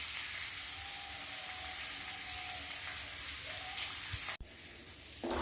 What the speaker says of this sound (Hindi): ये देखिए, ये लहसुन प्याज है, ये भून रहा है मेरा